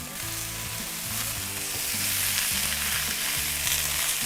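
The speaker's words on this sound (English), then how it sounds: "You hear that sizzle, that's what you wanna hear." Potatoes sizzling in a cast-iron pan on a Big Green Egg ceramic grill, a steady, close, crackling fry that holds level throughout with faint stirring or scraping underneath.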